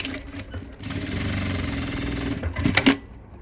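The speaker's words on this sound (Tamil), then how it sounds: "டபுள் தையல் போட்டுருங்க" A sewing machine stitching a double seam on a blouse runs in a steady, close whirring burst for about two seconds, then stops and gives a few sharp clicks.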